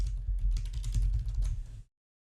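Rapid, close typing on a computer keyboard, an irregular clatter of keystrokes lasting under two seconds before stopping, with no voices.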